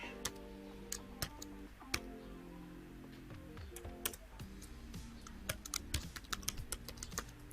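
Rapid, uneven computer-keyboard typing with sharp individual key clicks and occasional heavier strokes, close and alone against a quiet room background, during a PHP programming session.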